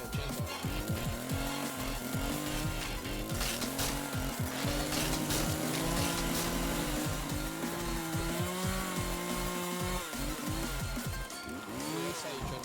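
A chainsaw in the video game Escape the Backrooms roars loud and continuous, its engine pitch rising and falling with revving throughout.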